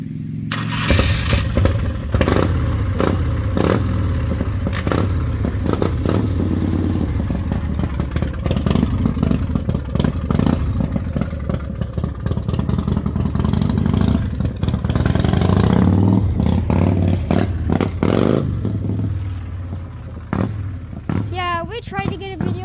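A custom Harley motorcycle revving and clattering nearby, its engine loud and rough with bursts of throttle, then fading as it rides away, with voices talking over it.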